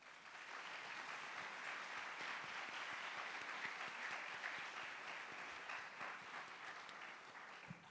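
Loud, sustained audience applause fills an auditorium at a university event, steady dense clapping from start to finish welcoming a speaker to the stage.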